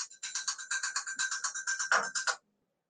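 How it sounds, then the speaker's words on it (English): A mobile phone rings with a bright electronic tone pulsing in quick, even repeated beeps for about two seconds, then stops abruptly into silence; no speech over it. "I get calls on my phone constantly. I should turn it off"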